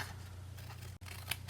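Scissors snip through paper for a paper-craft poppy treat box, a steady run of small crisp cuts close up with a brief pause, quiet and alone with no talking.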